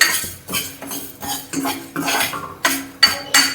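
A metal spoon scrapes and clinks repeatedly in a pan while mixed dry lentils of toor, urad, moong, masoor, chickpea and cowpea are dry roasted, giving rhythmic stirring strokes and rattling close up.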